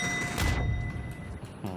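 Explosions boom in a video game on a gaming PC with an i5 10400F and RTX 3070 Ti, a loud low blast with crackling debris, then a rumbling tail and another burst at the end.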